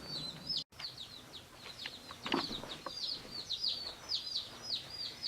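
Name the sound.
day-old baby chicks peeping in their box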